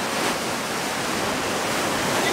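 Ocean water surging over coastal rocks while shellfish are gathered, a dense continuous roar of spray and rushing surf at close range.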